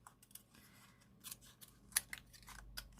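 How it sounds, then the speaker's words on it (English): Small scissors snip through paper to cut out a little butterfly shape, giving quiet, irregular crisp clicks and snips up close, with no voices. "Just going to cut this little butterfly out."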